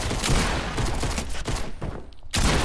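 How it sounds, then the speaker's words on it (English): A rapid burst of gunfire from a new gun in the video game Fortnite, loud and close, with dense overlapping shots that break off briefly near the end and then start again. "I was trying to kill you with the new gun that isn't supposed to be in the game yet"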